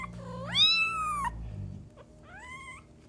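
Small kittens mewing close by, a long rising high-pitched meow followed by a shorter second one, with faint rustling as they move around.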